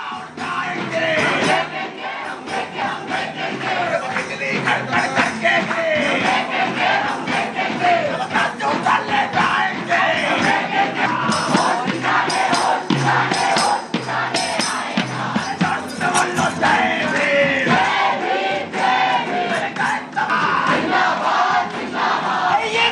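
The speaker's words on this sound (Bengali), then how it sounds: "বাইরে অরবিন্দ ভবনের বাইরে এসএফআই এর বিক্ষোভ" Dense crowd of SFI student protesters shouting and chanting outside Aurobindo Bhavan at Jadavpur University, a loud, continuous roar of many voices with overlapping yells throughout.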